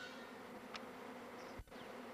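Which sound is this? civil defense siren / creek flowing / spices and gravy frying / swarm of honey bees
swarm of honey bees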